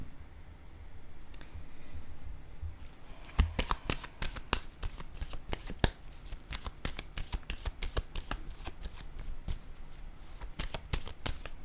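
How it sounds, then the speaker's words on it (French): Playing cards are handled, shuffled and laid down on a surface in a card reading, soft riffling followed by a rapid run of crisp close taps and flicks. "Je vais déposer une autre carte."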